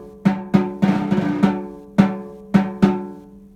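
Snare drum played with slow buzz strokes, each stick press giving a short crackling buzz. About eight distinct buzzes fall in an uneven pulse, close and fairly loud, a couple of them blurring together.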